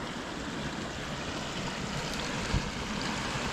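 Fast-running water rushes steadily past a stone arch at an abandoned 1800s farm in Scotland, a continuous broadband flow with one brief thump partway through.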